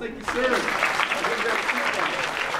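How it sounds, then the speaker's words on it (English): Applause from a children's audience in a library's children's department, steady and fairly loud, starting after a brief pause and continuing throughout, with someone talking over it. "hey, give him a big round of applause."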